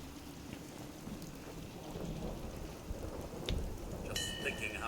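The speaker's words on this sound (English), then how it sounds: "Just thinking how wonderful it'd be to get out of this infernal rain." Steady rain in Fallout 4, a dense hiss of falling drops with low rumbling underneath and a brief bright chime near the end, heard alone without talk.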